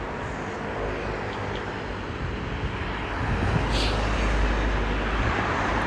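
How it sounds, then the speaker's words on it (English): Dense roadside traffic roars steadily and loudly as vehicles pass at a crossing, a continuous broadband rumble that swells slightly louder toward the end. "Sorry about all the noise now, but I'm in the middle of traffic as I wait to cross the road"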